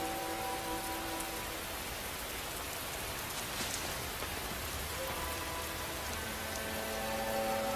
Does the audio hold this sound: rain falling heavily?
yes